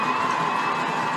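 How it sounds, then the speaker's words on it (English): Home crowd at a Fort Morgan high school football game against Brush, a loud continuous roar of cheering and shouting voices from the stands, dense and sustained, heard from close above. "Fort Morgan crowd right below us making noise"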